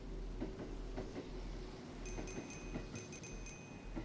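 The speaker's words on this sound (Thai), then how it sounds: "รอบนี้มีรถไฟผ่านนะครับ" Train passing in the horror game Burger & Frights, a steady low rumble with repeated faint rhythmic clacks and high ringing tones over about four seconds, fairly quiet with no talk.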